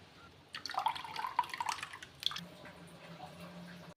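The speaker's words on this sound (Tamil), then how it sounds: "இந்த தேங்காவை நல்லா ப்ரெஸ் பண்ணி விட்டுக்கோங்க பால் நல்லா வரும்" Coconut milk drips and trickles as grated coconut is pressed through a filter for ragi halwa. Close, irregular wet splashes run for a couple of seconds, then fade to a quiet murmur.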